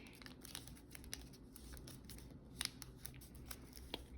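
Origami paper folded by hand for a dragon model, soft crinkles, creases and light taps close by, quiet and steady with a few sharper snaps.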